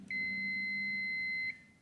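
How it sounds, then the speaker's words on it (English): Multimeter continuity beep while testing a DIY vacuum tube bias probe, one steady high-pitched tone lasting about a second and a half, clear and alone over a faint low hum. "we should hear a beep"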